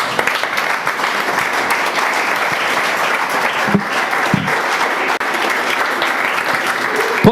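A church congregation applauds steadily and loudly throughout, a dense continuous clapping with a few faint voices mixed in.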